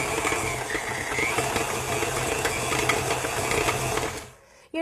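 Electric stand mixer beating butter with sugar and kosher salt for shortbread, a steady whirring motor drone close by that cuts off at the end.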